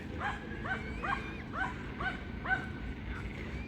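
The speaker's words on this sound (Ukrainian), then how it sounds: "Собака" A dog gives a run of short, high yelping barks and whines, about five in quick succession, fairly close over low background rumble, while fox cubs are nearby.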